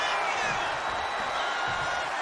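Wrestling arena crowd in WWE 2K25 roars as a steady, wide wash of cheering and murmuring, continuous and fairly loud, with faint commentary underneath.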